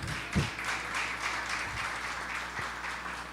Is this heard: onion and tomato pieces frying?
no